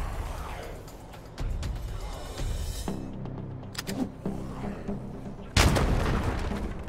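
A few sharp gunshots ring out in the tactical combat game Wasteland 3, separated by pauses, with a heavier blast near the end over ambient battle noise and faint talk.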